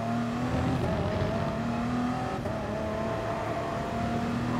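A Mazda 787B race car engine screams in the Gran Turismo Sport racing game, a loud sustained high whine rising and shifting pitch as the car accelerates through gears.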